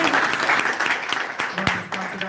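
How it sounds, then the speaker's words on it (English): An audience claps at a local zoning meeting, a loud, dense round of applause from many people in a hall that starts to thin out toward the end. "If we can avoid the clapping, just nodding heads is great"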